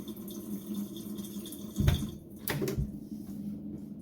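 A kitchen faucet with a newly installed filter runs water, a soft steady splashing flow with a couple of brief clunks and gurgles, close but quiet, with no voices.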